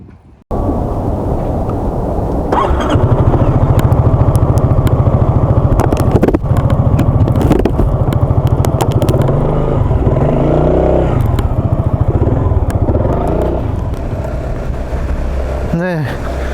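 A Honda ADV350 scooter ridden at night with a steady engine drone and road and wind noise throughout, and someone talking over it.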